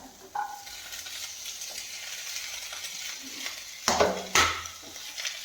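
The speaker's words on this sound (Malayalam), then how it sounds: "ഇനി ആദ്യം ക്യാപ്സിക്കം കുറച്ചുണ്ട്, ക്യാപ്സിക്കം ഇടാം." Capsicum drops into a pan of frying Kerala egg roast masala and gets stirred: a constant sizzle with a soft thump early on, then two loud metallic clatters of a spoon against the pan near the end.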